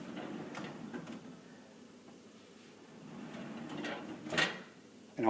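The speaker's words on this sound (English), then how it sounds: "All the cabinets have soft whisper close." A soft-close cabinet drawer in a home kitchen slides and settles shut with a muted rolling glide and a light soft thud, heard close up and faint, with no talk.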